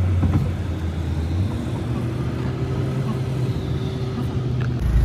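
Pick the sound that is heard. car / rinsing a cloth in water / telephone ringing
car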